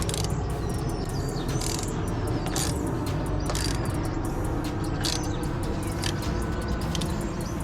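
A bolt tightened with a ratchet while fitting a hood lift strut on a 2020 Honda Accord, quick repeated clicking bursts over a steady background noise, close up and without talk.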